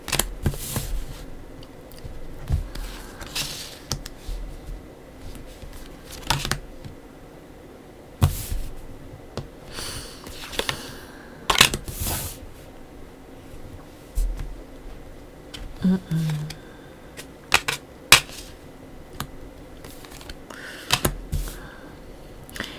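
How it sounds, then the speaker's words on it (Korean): Tarot cards being laid out on a table, with soft scattered slaps, slides and taps in irregular bursts separated by quiet gaps. "카드 먼저 깔고 시작하도록 할게요."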